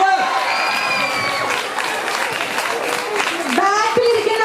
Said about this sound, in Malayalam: ബാക്കിലിരിക്കുന്നവർക്ക് ക്ലാപ്പ് ചെയ്യാം കേട്ടോ